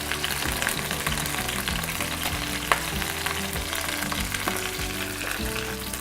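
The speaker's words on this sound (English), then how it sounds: "do is just brown that a little bit in olive oil." Chicken pieces browning in olive oil in a pan, giving a constant, dense sizzle that goes on steadily throughout, with no talking.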